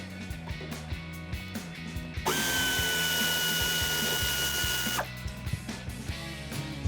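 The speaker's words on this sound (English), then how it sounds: "I have my air ratchet right here. It's a 3/8 drive with a deep 15mm socket." A 3/8-inch drive air ratchet with a deep 15mm socket loosens the top nuts on a 1994-2004 Mustang's shocks, one sustained, loud buzzing whir of nearly three seconds rising out of quieter clicking shop sounds.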